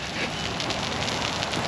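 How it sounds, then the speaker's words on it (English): Large hailstones pelt a river trail, a dense, continuous clatter and hiss of ice striking the ground and nearby surfaces, loud and unbroken across the whole stretch. "It's hailing pretty bad."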